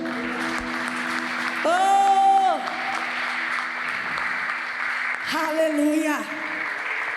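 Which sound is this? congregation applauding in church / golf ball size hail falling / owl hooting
congregation applauding in church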